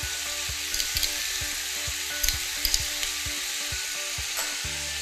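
Pumpkin with egg and basil stir-fries in a hot pan: a constant bright sizzle with repeated scraping and knocking strokes of a spatula mixing the food, heard alone.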